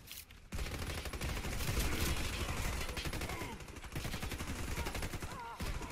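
Rapid automatic gunfire from the Mr. Cleaner weapon in the shooter game Warface, a loud, dense stream of shots fired continuously after a brief pause at the start, with a voice speaking over it.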